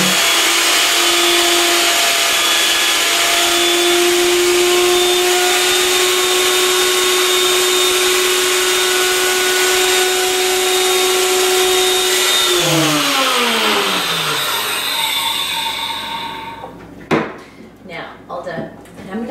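Blender blade spinning to emulsify olive oil into a Greek salad dressing: a loud steady motor whine that holds, then winds down with falling pitch, followed by clattering handling noises.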